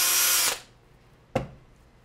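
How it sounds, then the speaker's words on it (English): Electric drill fitted with an offset weight, used to vibrate sediment, whines loudly for half a second and stops, followed by a single sharp knock. "over here, I have a drill that has a weight that helps make it offset."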